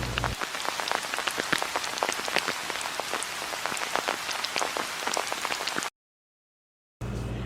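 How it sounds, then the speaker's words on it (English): Raindrops patter steadily on a surface in a dense, even shower, moderately close, breaking off briefly into silence before resuming. "Raindrop sounds."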